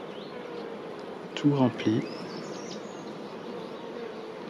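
Honeybees buzz around beehive frames filled with honey in a spring hive, a steady low insect hum running throughout, with a person briefly talking partway through.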